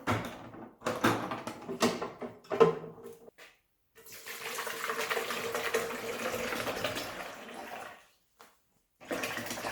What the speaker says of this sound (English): Now let's try to insert the water.